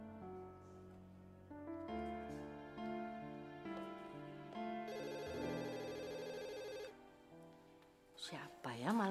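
A telephone ringing at night in a house, with a repeating electronic ringtone melody running for several seconds before it cuts off, followed by brief muffled sounds.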